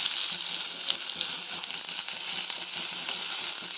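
Onions fry in oil in a kadai for a yam fry, a steady close hiss and crackle of sizzling that carries evenly throughout with faint stirring.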